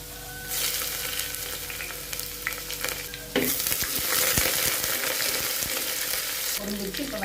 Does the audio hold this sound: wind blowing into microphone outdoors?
no